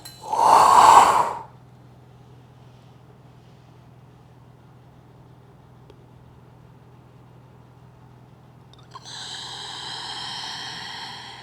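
A forceful, breathy yoga exhale during Uddiyana practice rushes out loud and close for about a second, followed by long quiet with a faint low hum, then a softer sustained breath sound near the end.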